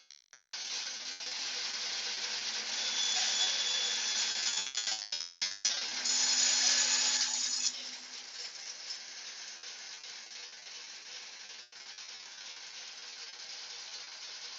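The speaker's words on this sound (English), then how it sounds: "So we're back at the bandsaw" A bandsaw cuts through a workpiece in a home workshop, giving a steady high-pitched buzzing whine throughout. The cut dips briefly in the middle, surges again, then settles into a slightly softer continuous run.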